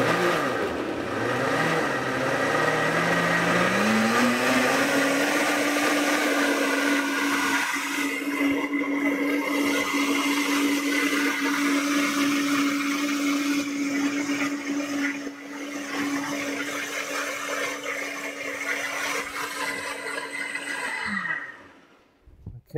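A blender purées peaches with a little water, roaring loudly as it spins up, then running at a steady high whir for about twenty seconds before winding down.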